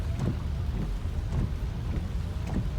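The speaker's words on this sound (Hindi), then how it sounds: "ये आप देख सकते हैं किस लेवल की बारिश हो रही है दुबई में" Heavy rain pouring down in Dubai, a dense, steady roar of broadband noise with gusty low rumble, sounding close and continuous with no talking.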